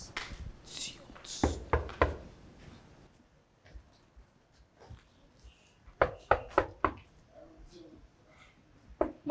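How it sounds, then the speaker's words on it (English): Knocking on a door during an indoor drama scene: a quick series of sharp raps stands out after quieter hushed voices and softer scattered taps. "Mom, someone is knocking."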